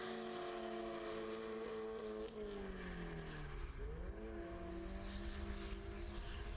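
A race car during qualifying approaches and passes, its engine a loud, sustained drone that slides down in pitch as it goes by, then settles into a steady hum as it pulls away.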